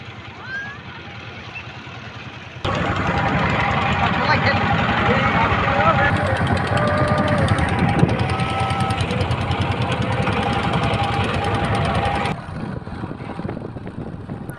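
A boat engine drones on Hasaigari beel in Naogaon, a close, loud and steady mechanical chugging with rapid knocking that rises sharply after a quieter start and continues evenly before dropping back.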